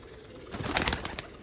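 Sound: pigeons

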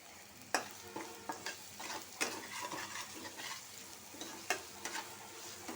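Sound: whole spices frying in oil in a pan

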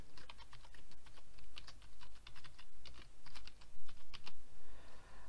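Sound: typing a blog post title on a computer keyboard

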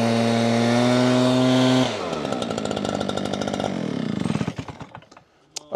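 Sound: gas backpack leaf blower running

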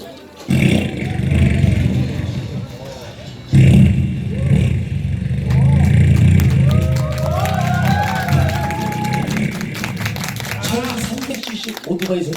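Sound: vocal imitation of a 750cc American motorcycle starting

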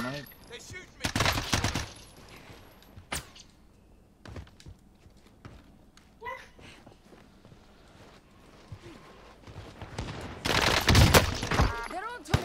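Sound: gunfire in Call of Duty Warzone Pacific video game

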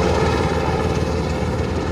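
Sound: Black Hawk helicopter flying during search

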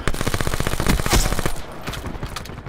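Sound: shotgun fire in Black Ops 4 video game

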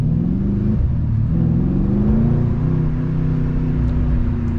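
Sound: Mercedes-AMG C63 S 4.0L V8 engine accelerating

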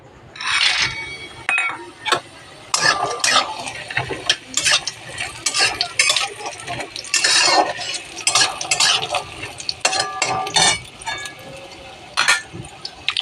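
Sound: frying kalai bori (lentil dumplings) in oil in a wok

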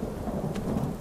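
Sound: rain and thunderstorm in video game Skyrim VR

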